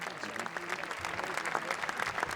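Sustained audience applause fills a Cannes festival screening, steady dense clapping from a large crowd throughout with no pauses.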